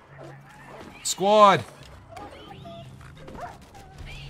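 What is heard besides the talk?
wolves barking in the video game Minecraft Legends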